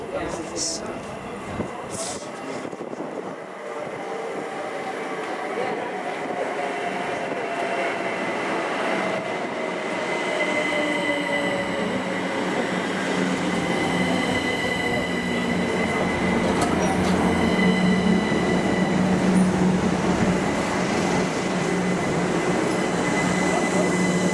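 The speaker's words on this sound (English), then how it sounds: "Hey, here's my train." A train rolls through Welwyn Garden City station on the East Coast Main Line, its rumble building with squealing wheels and rhythmic clatter, while a voice speaks over the noise.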